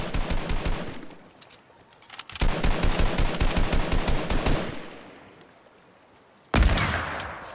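Video game gunfire in a rapid automatic burst of evenly spaced shots, a quieter stretch of fainter fire before it and one loud single blast near the end, crisp and close, no talk.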